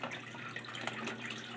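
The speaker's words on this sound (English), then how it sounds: "You can put water in here," Water trickles and splashes steadily as it is poured into a Hessaire MC37M evaporative cooler, a continuous close, moderately quiet pouring sound with no talk.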